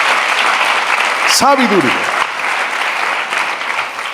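Church congregation applauding loudly and steadily throughout, with a voice briefly speaking over the clapping.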